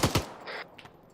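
Two quick, loud gunshots crack close by in Arma 3, followed by a fainter burst further off, all within about a second.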